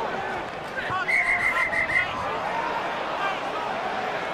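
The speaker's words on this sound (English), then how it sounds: "Referee's blown the whistle." A referee's whistle at an Ulster v Edinburgh rugby match gives a short series of quick, fairly faint pips over a steady crowd murmur in a stadium.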